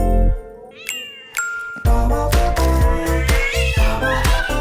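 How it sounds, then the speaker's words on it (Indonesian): An angry, bad-tempered cat meows and caterwauls loudly and close, several drawn-out, rising yowls with growling in between, alone with no talk. "Tapi ini ada kucing yang suka marah-marah."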